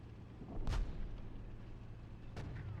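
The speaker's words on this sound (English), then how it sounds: "Hearing secondary explosions." Secondary explosions in the tank simulator Steel Beasts Pro, two distant muffled booms about two seconds apart over a low rumbling background.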